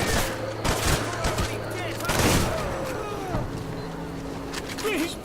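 Gunfire in the video game Hatred comes as repeated bursts of shots at moderate loudness, mixed with in-game voices and noise throughout.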